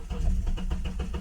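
A 2009 Honda Accord with the 2.4 engine cranks over in a steady, rapid rhythmic chug as it tries but fails to start, heard close and fairly loud with no talk.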